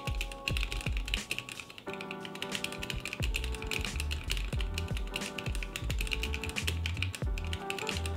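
Steady typing on a wireless Corne split keyboard fitted with lubed Gateron Ink Black linear switches, a quick, dense run of soft clacks and taps close up, with no talking.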